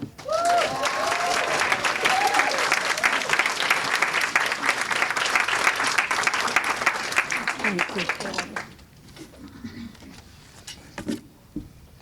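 An audience at the NAACP Phenomenal Women in Brockton Awards applauds steadily for an arriving award speaker, a full, sustained round of clapping that fades out after about eight seconds, with some cheering voices mixed in.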